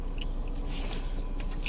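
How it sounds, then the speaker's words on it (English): Close, loud chewing with wet squishes and crunchy bites, a continuous mouth noise right near the microphone, with no speech over it. "You're chewing very loud"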